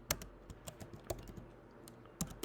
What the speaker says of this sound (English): you want to go into the search bar and you want to type in